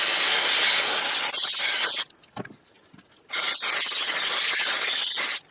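Aerosol cleaner sprayed onto a car throttle body in two long loud hissing blasts, close up, separated by a brief quiet gap with faint handling sounds.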